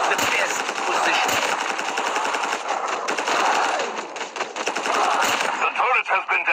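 An auto-aiming turret in the COD Mobile video game fires continuous rapid bursts, a dense loud rattle lasting several seconds with brief breaks, while a voice speaks over the gunfire.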